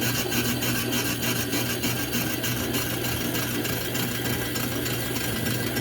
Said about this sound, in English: now you can hear the void of the cut. It's not cutting, basically. It's just swinging around.